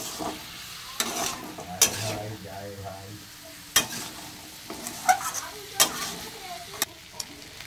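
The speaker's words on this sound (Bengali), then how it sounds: "হাই ফ্লেমে কষিয়ে নেব" Potato curry stir-fried on high flame, soft sizzling under sharp scraping and clinking strokes of a spatula against the pan, irregular and close.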